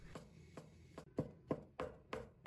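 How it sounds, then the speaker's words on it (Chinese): A knife dices shiitake mushrooms on a cutting board in about eight steady, evenly spaced chops, close and quiet, with no talking. "再切成香菇丁"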